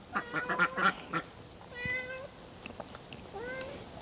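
A cat gives two drawn-out meows, close by, after a brief flurry of other animal calls at the start.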